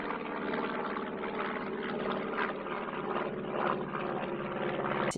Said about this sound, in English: Little small airplane.